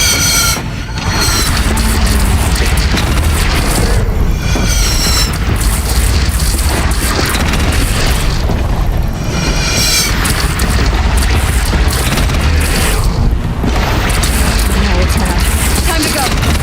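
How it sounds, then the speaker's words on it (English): Cannon fire and explosions in a battle within the Horizon video game, heavy repeated booms and blasts over a loud continuous din of combat, with shouting voices mixed in. "Take up a cannon!"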